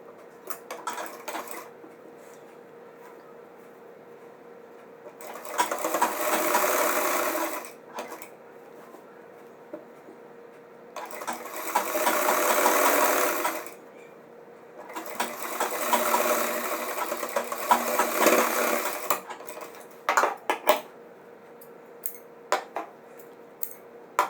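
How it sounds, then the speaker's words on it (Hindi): A sewing machine stitches the seat seam of pajama trousers in three bursts of steady whirring, a few seconds each, separated by quiet pauses filled with light handling clicks and fabric movement. "अब आपको ये सीट की सिलाई लगा देनी है।"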